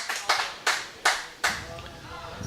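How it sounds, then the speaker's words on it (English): Four or five sharp, separate claps ring out in a steady rhythm at a blind bowls world championship, close and fairly loud, then fade into quiet background murmur. "I'm just trying to hear who all this cheering was for"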